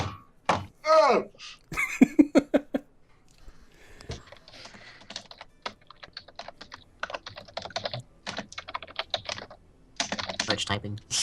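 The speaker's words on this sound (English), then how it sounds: "Much typing. So much typing going on." Rapid, uneven clatter of keys on a computer keyboard, coming in bursts with pauses, under occasional talk and a cough or thump early on.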